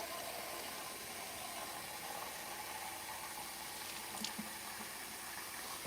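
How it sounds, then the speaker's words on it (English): Tap water pours steadily into a container in a continuous, fairly loud hiss and gurgle that runs the whole time, with a couple of faint clicks near the end. "So you fill this thing up with the water."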